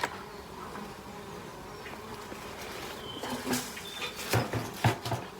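Honeybees buzz steadily around a hive as it is taken apart to move the colony into a new box, a dense close hum with a few louder passes near the end.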